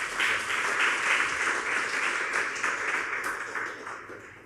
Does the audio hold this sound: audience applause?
yes